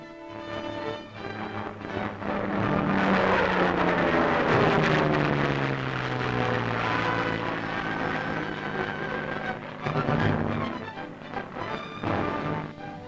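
A propeller airplane from a 1944 newsreel swoops in at about 130 miles an hour for an air pickup, its engine drone rising and falling in pitch as it passes close and loud, with a rushing, noisy old-film quality throughout.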